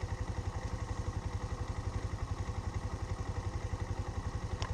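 A motorcycle engine idles close by at a slow speed, giving off a steady, even pulsing thump with a light mechanical clatter and no voices.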